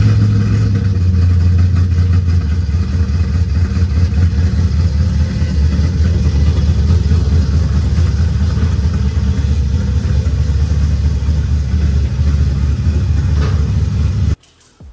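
A Chevrolet Impala SS with an LSX 454 V8 and 4-to-1 headers runs rough and rowdy at idle, a loud, close, throbbing rumble that carries on steadily before cutting off abruptly near the end.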